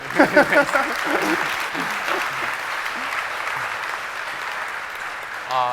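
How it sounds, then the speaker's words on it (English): Audience applause at a GitHub Universe 2015 conference talk, a steady wash of clapping that follows brief speech at the start and carries on for several seconds before trailing off, with a voice returning at the end. "Yes, you can clap"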